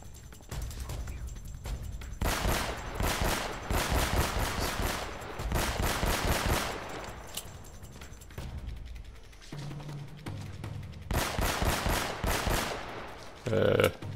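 Pistol gunfire in the Uncharted video game, a fast run of sharp shots in bursts amid loud game action, with short pauses between volleys.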